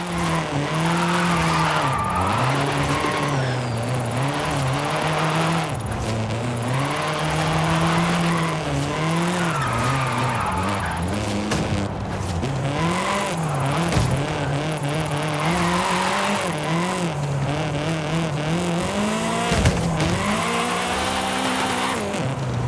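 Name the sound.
race car engine and tyre squeal in Forza video game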